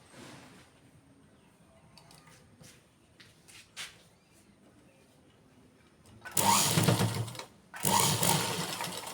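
A sewing machine stitches old cloth into a pot holder, a quiet start with faint handling sounds giving way to two loud bursts of motor whirring, the second following a brief pause.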